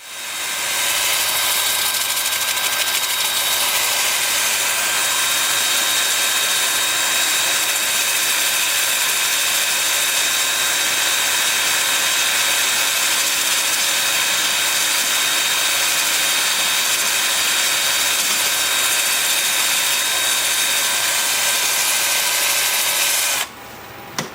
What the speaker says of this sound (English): I've got the lathe spinning in reverse at about 380 RPM